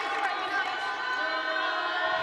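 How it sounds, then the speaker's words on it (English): Volleyball crowd at a 2019 NCAA tournament second-round match between Cincinnati and Pittsburgh, cheering before set point: a loud, continuous wash of arena noise with a steady roar and scattered shouts, no distinct pauses. "The crowd's alive here."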